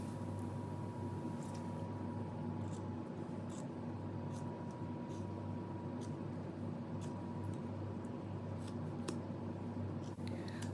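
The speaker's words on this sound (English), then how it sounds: "I also cut the seams at the shoulders." Scissors snip through the seams of a thrifted denim jean jacket, giving soft, intermittent cuts over a steady background hum, close and fairly quiet, with no talking.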